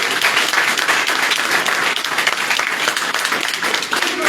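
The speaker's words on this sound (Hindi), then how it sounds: "भरपूर तालियां बजाइए" A loud, dense round of clapping from an audience at a professional online training event in Pakistan, continuous and close throughout.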